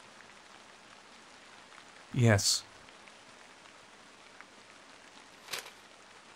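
Steady rain hiss from an RPG Maker horror game set in a drizzling forest, a soft continuous wash that runs the whole time, with a brief burst of speech cutting in near the middle.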